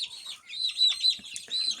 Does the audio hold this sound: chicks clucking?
yes